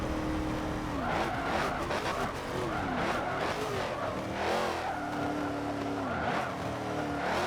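Race cars in Forza Motorsport 7 on the final lap of a sport touring race, engines droning and shifting pitch continuously with repeated tire squeals and skids, loud and close throughout.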